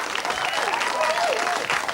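A studio audience applauds guests arriving on a 1994 talk show, a brief burst of steady clapping with a voice speaking over it.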